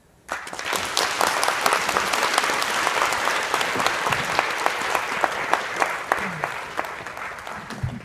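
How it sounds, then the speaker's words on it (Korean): An audience applauds at the close of a lecture in Korea, a dense burst of clapping that starts sharply and holds steady for several seconds, with scattered sharper claps throughout. "선사장님큰 박수 부탁드립니다"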